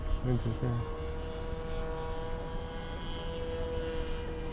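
A model airplane flies in a crosswind, its propeller engine giving a steady, sustained drone with a brief tonal burst at the start and talk underneath.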